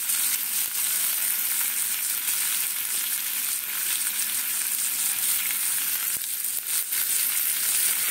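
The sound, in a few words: potatoes added to hot pan, frying sizzle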